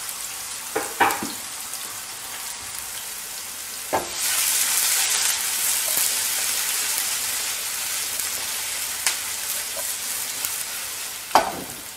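Half an onion fries in olive oil in a pan, giving a steady close sizzle with occasional clatters and scrapes as it is stirred, no talking.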